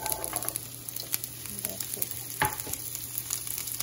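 Garlic frying in a pan on a home stove gives a steady, crackly sizzle with occasional stirring scrapes and clinks, continuous and close throughout.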